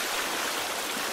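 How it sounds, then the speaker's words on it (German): A waterfall in the video game Sons of the Forest gives a steady, dense rushing roar of falling water, continuous and fairly loud with no voices over it. "oder dieser fucking Wasserfall"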